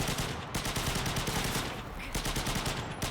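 Rapid sustained bursts of PPSh-2 submachine gun fire in the shooter game Enlisted, a dense rattling stream of shots close and loud across the whole stretch, with brief dips between bursts.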